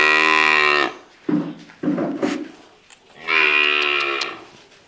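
Buffalo mooing close by, two long, loud, deep lowing calls with a brief rustle and clatter between them, heard without any talking.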